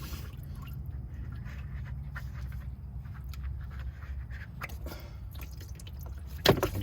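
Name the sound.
diesel fuel draining from an F350 fuel filter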